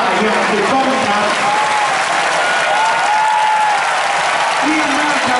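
Steady, dense applause from cheering sections at a Thai school football match, Suankularb versus Debsirin in the Chaturamitr Samakkhi third-place game, filling the whole stretch with continuous clapping and a raised crowd murmur, with an announcer's voice audible over it.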